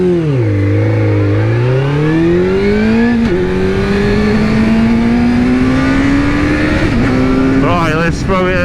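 A 2001 Suzuki GSX-R600 K1 motorcycle ridden on twisty roads, its engine loud and close, rising steadily in pitch through the revs, with a brief dip at each gear change.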